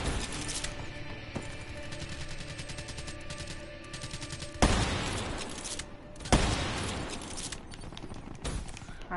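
An M8 rifle fires in a multiplayer video game, rapid automatic bursts up close with a couple of sharper, heavier impacts standing out partway through.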